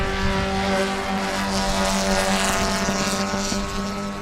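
Race cars at speed at Sebring during a 20-minute race, a steady droning roar of engines holding strong and continuous, with no voices over it.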